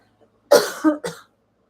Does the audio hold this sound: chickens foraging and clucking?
no